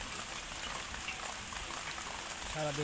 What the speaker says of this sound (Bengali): আজকে ভোর থেকে এখনো সকাল অবধি খুব বৃষ্টি হচ্ছে।